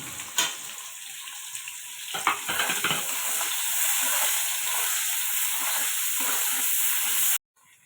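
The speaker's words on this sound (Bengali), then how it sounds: "বন্ধুরা, আমার পেঁয়াজটা আমি এইভাবে ভেজে নিয়েছি।" Onion fries in hot oil with cumin seeds and bay leaves for a Bengali-style egg curry, giving a steady close sizzle broken by scraping stirs, then a sudden cut to near silence at the end.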